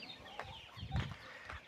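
Twenty-day-old chicks peep in thin, soft calls, a few brief cheeps rising over a faint background at close range.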